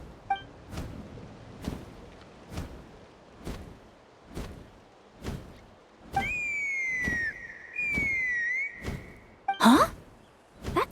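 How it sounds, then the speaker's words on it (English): A whistle in Genshin Impact sounds as a sustained, gliding tone over regular soft thumps, followed by a sharp burst near the end. "That sounded like a whistle."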